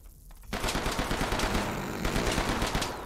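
Continuous rapid gunfire from the video game Hidden Deep, loud and dense bursts after a short quiet start, sustained for about two and a half seconds.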